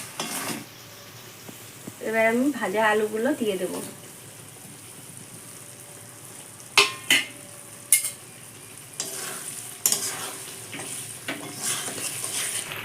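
Paneer curry base with sour yogurt sautés in a pan, giving a low sizzle broken by several sharp clanks and scrapes of a utensil against the pan, while a voice speaks briefly early on.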